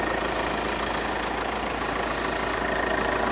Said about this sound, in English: So let the engine heat up